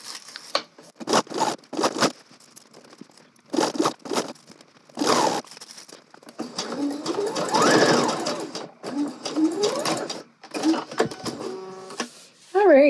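A home sewing machine stitching fabric runs in short bursts and one longer steady run, its rapid mechanical whir close and clear, with a person talking between the stitching runs.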